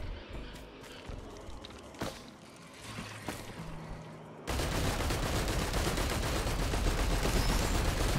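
Rapid gunfire in the video game Risk of Rain 2, scattered sharp shots over ambient game sound, then a dense, loud barrage filling the second half.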